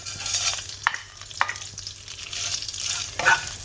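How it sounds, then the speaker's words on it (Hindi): Thin vermicelli fried in ghee over a low flame, with a gentle crackle under repeated scraping strokes of a spoon stirring the pan at an uneven pace. "मैं सेमिया फ्राई कर लूँगी अच्छी तरह से, हल्की आंच पे।"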